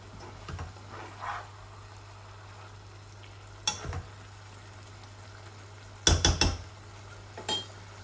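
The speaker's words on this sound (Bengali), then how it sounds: "আমার মাছগুলা আর একটু বাজা বাজা হোক" Small fish frying in oil in a pan, a soft sizzle under a steady low hum, punctuated by a few sharp clinks and scrapes of a utensil stirring against the pan.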